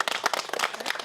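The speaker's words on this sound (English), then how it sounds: "Give her a round of applause." Brief scattered clapping from a classroom audience during a maths masterclass on polygons, a quick burst of uneven handclaps lasting about a second.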